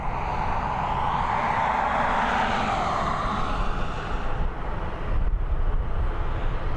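A Swiss Airbus A220 arriving from Zurich descends on final approach to Dublin Airport, giving a steady, fairly loud jet rumble and whoosh that shifts slightly in tone as it nears.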